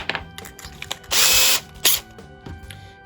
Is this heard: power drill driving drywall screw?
yes